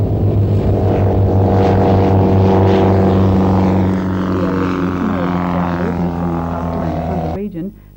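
Light propeller planes, Cessnas among them, drone loudly and steadily overhead with a rich harmonic engine hum, fading slightly toward the end while a voice talks over it.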